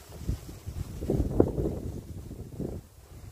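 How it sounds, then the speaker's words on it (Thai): Strong wind gusts blow across ground plants and flowers, rumbling and buffeting the microphone in uneven surges. "ดอกไม้ต้นไม้ที่อยู่กับพื้นเนี่ยปลิวว่อนเลยค่ะเพราะว่าลมพัดแรงมาก"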